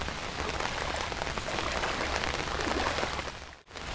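Heavy rain pours steadily onto a road, a dense, continuous hiss and patter close by with no voices, briefly cut off near the end.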